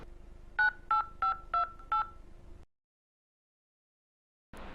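Five crisp touch-tone dialing beeps sound in an even rhythm on a telephone, followed by a couple of seconds of dead silence before noise returns.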